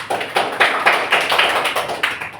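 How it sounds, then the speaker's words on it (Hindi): A group of children in a classroom claps for a student, about nine even, rhythmic claps in quick succession, loud and close, with no talking over them. "ताली बजाओ।"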